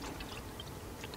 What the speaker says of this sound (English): let's go and pour this antifreeze in